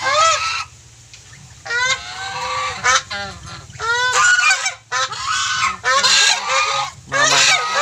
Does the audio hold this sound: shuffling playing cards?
no